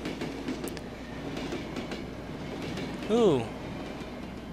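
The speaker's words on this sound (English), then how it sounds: "that train just took out those newspapers" A train rumbling past in the horror game Cry of Fear, a steady mid-distance rolling roar with a brief squeal near the end, under a voice and a short exclamation.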